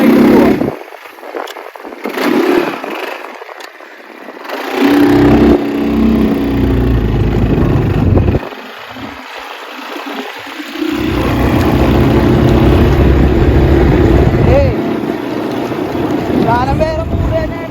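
A Cobra bike engine in Dubai during a short ride, rumbling and revving at varying loudness with idle-like pauses, while people talk over it at times.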